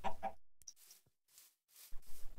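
Chicken clucks from the Minecraft video game, two short bursts at the start and then sparse faint blips with a bit of noise, ending in another louder stretch of game sound.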